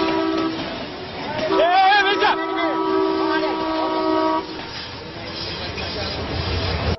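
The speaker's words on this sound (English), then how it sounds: "It lays on the horn, but he doesn't even hear it." A train horn blares loud and close in long sustained tones with a bending pitch, then cuts off as the rumble of the passing train carries on to the end.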